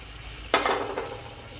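Sautéed mixed vegetables and paneer drop into hot masala in a pan with a sudden loud sizzle, then a spoon stirs them through as the frying hiss fades and softer scraping follows.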